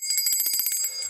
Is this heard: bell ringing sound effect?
yes